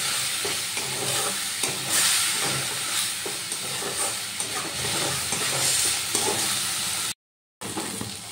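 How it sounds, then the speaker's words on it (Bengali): Gobindobhog rice stir-fried in spice masala in a pan, a dense continuous sizzle and hiss with frequent scraping stirs, close and steady, briefly cutting out near the end. "এবার মশলার সাথে চালগুলো ভালো করে কষিয়ে নেব"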